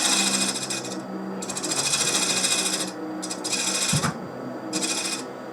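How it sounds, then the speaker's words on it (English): A point tool easing back the edge of a spinning cherry burl box on the lathe, close rasping scrapes in several short bursts separated by brief gaps, no talking. "So I'm just again taking the point tool and just ease it on back just a tiny little bit"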